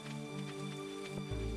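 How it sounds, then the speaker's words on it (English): Rain falls in the farming game Stardew Valley as a soft, steady patter. It is quiet and continuous beneath a gentle game music drone. "Oh, yeah, it's raining."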